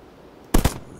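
A pistol fires in the zombie video game Zumbi Blocks, a quick pair of sharp, loud shots in rapid succession against a quiet background.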